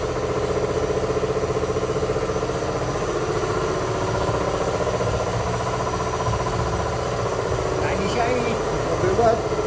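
A steady mechanical drone of an air compressor running fills a car garage where a Max Power Vauxhall Cavalier is being jacked and polished, continuous and fairly loud, with a few faint tool noises near the end.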